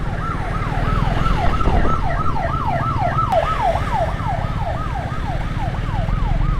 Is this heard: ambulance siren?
yes